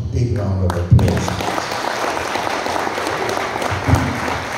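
An audience at a business conversation event breaks into loud, dense applause that swells quickly after a short spoken line and holds steady, many hands clapping together nearby.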